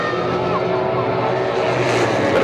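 Dirt-track motorcycles race on a speedway track, a Triumph ahead of a 250 DTX bike on Goodyear tires, heard from on board as a loud, steady engine roar with shifting pitch that fills the whole stretch.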